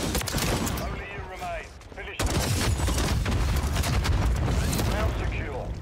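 Explosions and gunfire in a Call of Duty: Vanguard shooter match, bursts of shots and booming blasts with a sharp loud hit near the middle, under background game noise.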